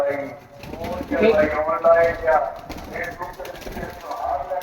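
Pigeons coo softly close by under ongoing conversation, with low rustling in the background.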